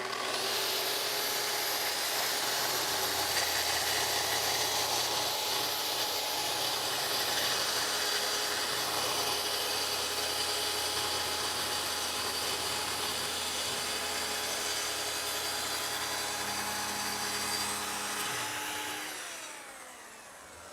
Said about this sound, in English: So I'll make the cut. This will plunge through the plywood